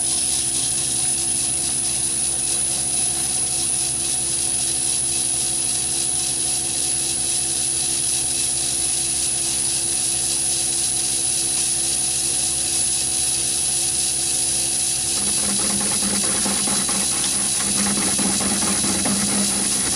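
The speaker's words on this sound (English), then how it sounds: "I'll just show you some quick scenes of me actually doing the milling on that tool post fixture with this actual carbide end mill" Milling machine cutting with a carbide 4-flute end mill on a tool post fixture, a loud continuous high-pitched whine and motor drone that turns rougher and chattering near the end.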